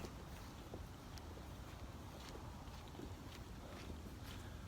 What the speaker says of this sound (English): Wind is still kicking over here.